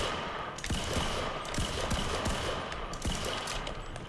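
M1941 Johnson rifle firing in the video game Enlisted, a string of sharp shots in uneven rhythm, close and fairly loud over steady background noise.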